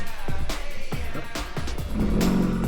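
A Ford Focus on a test drive roars loudly, its engine revving in repeated surges with sharp bursts between pulls, close and harsh throughout.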